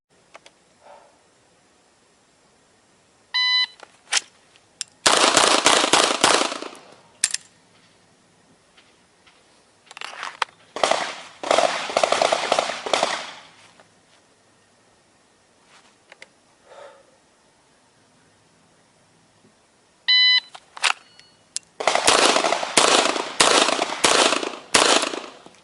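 A Beretta M9A3 pistol fired on an outdoor range during an IDPA classifier course, with electronic shot-timer beeps followed by rapid strings of sharp, loud gunshots in several bursts separated by quiet pauses.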